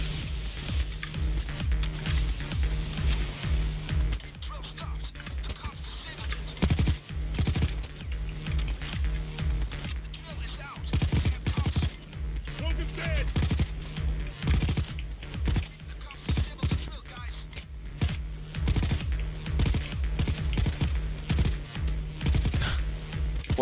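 Sustained gunfire from a Payday 2 heist shootout on the Transport: Crossroads map, rapid bursts and single shots overlapping continuously at high loudness, with dense rattling volleys and brief pauses throughout.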